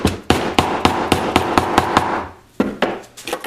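A dead blow hammer taps a part into a 1973 Honda CB750 clutch assembly, about a dozen sharp, evenly spaced knocks up close, then a brief pause and a few more quicker taps.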